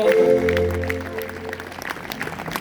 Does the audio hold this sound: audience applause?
yes